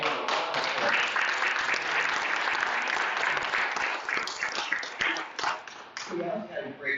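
A crowd at a school board meeting applauds loudly and continuously, with cheering voices mixed in, tapering slightly near the end.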